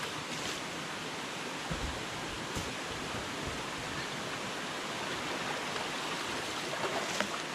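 A fast stream running high through a forest rushes in a steady, loud, hissing wash of water, with a few faint splashes and knocks over the constant flow and no voices.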